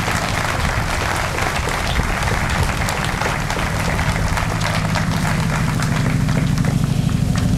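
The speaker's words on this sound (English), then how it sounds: "So could we give a round of applause for all of these people?" An audience at an Old Town 25th birthday celebration claps steadily for several seconds, a dense, even wash of applause that swells slightly toward the end, with no talking over it.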